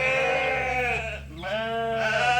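A sheep bleats loudly and close by in two long wavering calls, separated by a brief pause, over a faint low hum.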